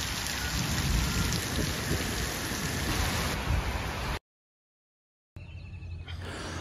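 Rain pouring steadily on surfaces during a thunderstorm in Mahendranagar, Kanchanpur, with low rumbling thunder under the downpour, broken by a short silence before the rain resumes.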